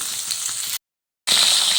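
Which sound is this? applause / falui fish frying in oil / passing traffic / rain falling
falui fish frying in oil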